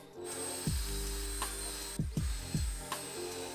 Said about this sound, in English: So first I'm gonna drill a pilot hole,